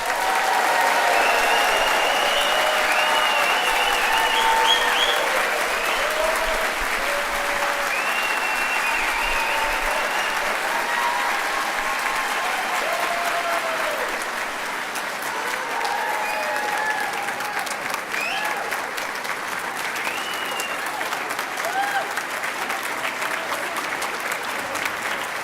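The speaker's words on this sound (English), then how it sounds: "Please give them a big round of applause." A large audience applauds the graduating class of 2022 at an SMA convocation ceremony, sustained dense clapping with cheering voices mixed in, holding steady for the whole stretch and easing slightly toward the end.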